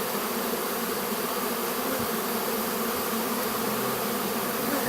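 A swarm of honey bees clustered in a ball-like mound, waiting for their queen, fills the air with a dense, steady buzzing that stays loud and continuous throughout, with no voices.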